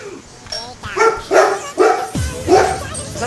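A dog barks several times in a row, loud and close, with each bark distinct, in a home setting with people talking around it.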